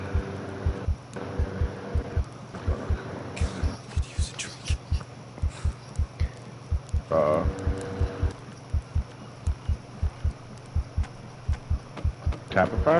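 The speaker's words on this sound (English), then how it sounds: "Oh god, I hear my heart beeping." Steady, loud heartbeat thumps in Green Hell video game, a regular double-beat pulse repeating throughout while people talk over it.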